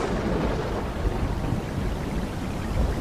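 Heavy rain suddenly pours down outside a school classroom, a dense, steady wash of falling water with a low rumbling undertone, continuous and fairly loud with no voices.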